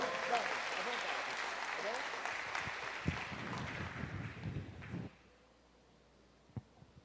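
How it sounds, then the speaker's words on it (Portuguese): Congregation at a church service applauding, broad steady clapping that fills the space for about five seconds and then stops abruptly, leaving quiet room tone with a stray thump. "Você pode aplaudir o Senhor?"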